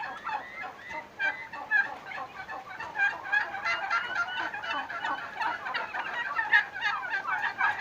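A flock of farm turkeys gobbles continuously, with overlapping rapid, warbling calls at moderate distance and no talking.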